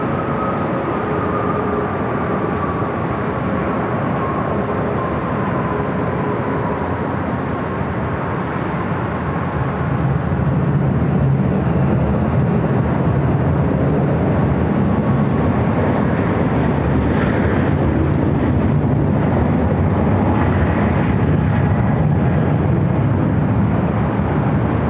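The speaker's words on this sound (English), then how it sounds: "we do have the Qantas A380 Super arriving 25 left" Qantas Airbus A380 landing at LAX on runway 25 Left: a broad, steady jet roar with a faint whine that slowly drops in pitch, heard from a distance and growing louder as the aircraft passes.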